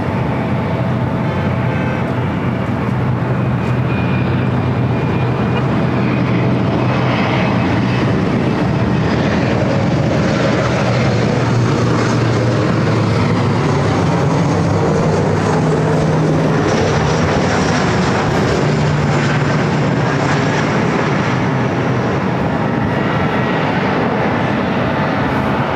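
An airliner takes off from runway 24 Left at LAX, its loud, continuous jet roar filling the whole stretch and swelling and shifting in tone as it passes.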